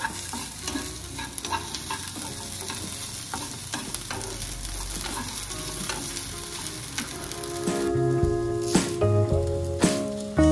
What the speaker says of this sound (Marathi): कांदा थोडासा लाल झाला की बारीक चिरलेला एक टोमॅटोही आपल्याला या कांद्यात परतून घ्यायचा आहे।